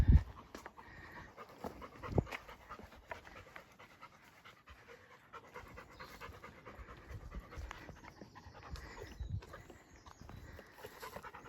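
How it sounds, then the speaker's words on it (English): Dog named Remy panting heavily with steady rapid huffs while walking through a forest, close and continuous, with footsteps and rustling underneath. "That's Remy huffing and puffing."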